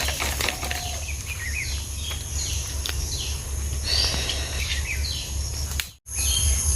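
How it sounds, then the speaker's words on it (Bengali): Several birds chirp and whistle in short, repeated calls during rain over a steady low hum and wash of background noise, with a brief cut near the end. "বৃষ্টি হলে পাখির বাসাগুলো ভিজে যায় তো পাখিগুলোরও বেশি পরিমাণে ডাকে"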